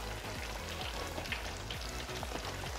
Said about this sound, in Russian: Фритюр уже должен быть разогретый до 170 градусов и будем обжаривать